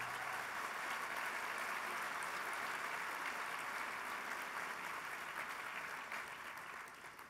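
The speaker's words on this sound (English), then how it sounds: "Let's give him a round of applause already." An audience applauds honoree Jacopo Leonardi at a 2016 HBA Honorable Mentor celebration, a steady, dense wash of many hands clapping throughout that tapers slightly at the end.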